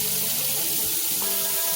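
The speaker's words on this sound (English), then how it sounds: "I just wait for this tap to fill up" Hot water runs steadily from a tap into a sink being filled to wash raw wool fleece, a continuous close rushing splash with no voices.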